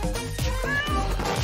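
A small kitten gives several short, high meows in quick succession, close and fairly loud, with no talking.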